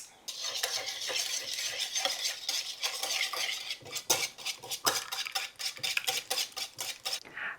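Seasonings of black pepper and kosher salt are mixed into a ham hash brown casserole, with a utensil scraping and clinking steadily against a bowl or dish, close and continuous, and no talking.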